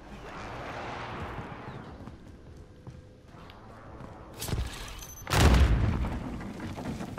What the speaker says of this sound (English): Everyone's getting airstrikes.